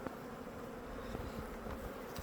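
Honey bees fly out around their hive on an evening cleansing flight, giving a continuous low, faint hum of many wings with a few nearer buzzes passing, no voices.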